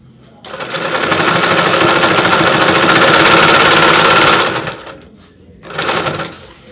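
A small sewing machine stitches a buttonhole, running a loud, close, rapid mechanical whir for several seconds, stopping, then giving a brief second burst.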